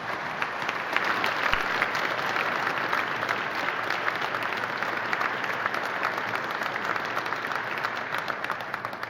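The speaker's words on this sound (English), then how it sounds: "I think that deserves a round of applause right there" An audience at an international WWII conference breaks into sustained applause, a dense, even wash of clapping from many hands that carries on steadily throughout without a break.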